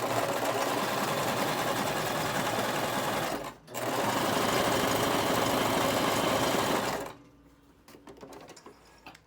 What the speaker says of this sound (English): use your widest zigzag stitch and go really close to your straight stitch line